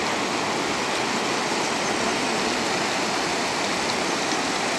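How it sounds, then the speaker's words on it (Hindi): Fast, cold river rushing through the forested Kumrat Valley, a dense continuous roar of water that is loud and close, with no pauses. "बहुत तेज दरिया, ठंडा है,"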